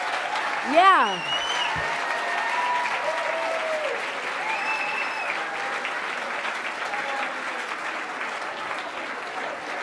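Dense, steady applause fills a hall at a senator's announcement of a nurse-to-patient ratio bill, with a sharp whistle and a brief voice near the start, then continuous clapping and crowd noise throughout.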